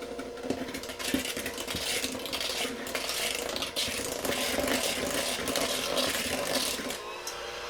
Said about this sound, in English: Now, I'm going to slowly mix in the flour and the spices.